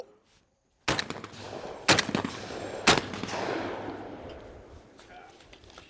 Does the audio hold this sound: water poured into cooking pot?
no